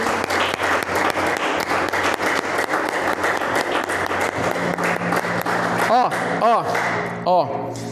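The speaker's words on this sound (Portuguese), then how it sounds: "Pode aplaudir o Senhor" Church congregation applauding in a long, dense burst of clapping, with voices and crowd noise mixed throughout and a few rising vocal cries near the end.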